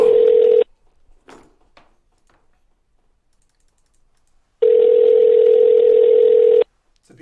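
A loud, steady telephone dial tone sounds twice while a call is being placed, once briefly at the start and again for about two seconds later, separated by quiet with faint clicks.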